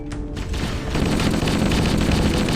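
Heavy gunfire in the Halo video game: a dense, loud, continuous burst of rapid shots and booms, close and unbroken throughout.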